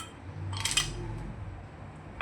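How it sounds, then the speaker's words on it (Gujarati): Ice cubes dropped onto mint and sugar for a jamun shot make a quick cluster of bright, hard clinks up close, followed by quiet. "ઠંડુ કરવા માટે બરફ લઈશું।"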